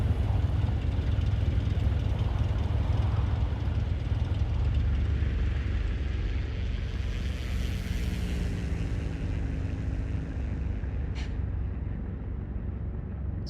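Steady, droning engine hum of a Cessna 172 in Microsoft Flight Simulator 2024, a constant low roar filling the whole stretch with no talking over it.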